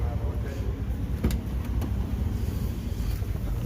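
A 1999–2006 Chevy Suburban with a 5.3 V8 and a deleted muffler idles nearby with a deep, continuous low burble, and a couple of brief clicks rise above it.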